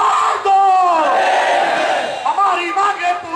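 A large crowd of shiksha mitra teachers protesting in Delhi shouts slogans together, loud and close, with their voices rising and falling in waves of massed chanting.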